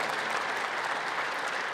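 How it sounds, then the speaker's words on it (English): An audience applauds the Strathmore Choir from Bethesda, Maryland, at a formal opening ceremony, a dense, steady clapping of a large crowd filling the room. "how about a big round of applause for the incredible choir from Maryland?"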